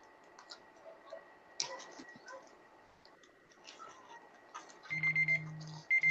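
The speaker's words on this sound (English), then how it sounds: "There's the timer." Timer at a live online comic book auction: faint, steady ticking under a quiet room, then a louder run of sharp electronic beeps near the end.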